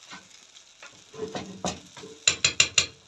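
Cooked fava beans get stirred in a pan with tasbika, giving soft sizzling and scraping that builds into four sharp, evenly spaced scrapes of a utensil against the pan near the end.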